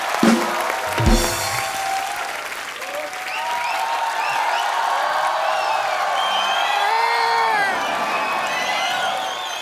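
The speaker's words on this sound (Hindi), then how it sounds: "जोरदार तालियां" Studio audience on a Kapil Sharma comedy show breaks into loud, sustained applause with cheering and whoops, a thick wash of clapping that fills the whole stretch with shouts rising above it.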